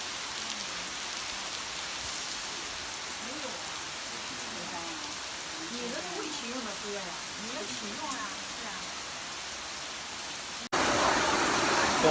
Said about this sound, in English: Got all the way to the top just for it to start pissing rain.